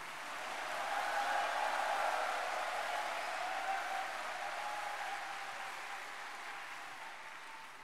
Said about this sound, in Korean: 박수가 좀 약해요.